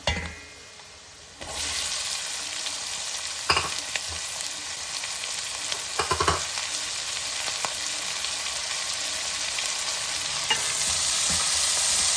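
Asafoetida being stirred into hot oil for a pumpkin pulusu tempering, giving a steady close sizzle after a quiet start, with a few sharp scraping strokes of the spoon against the pan.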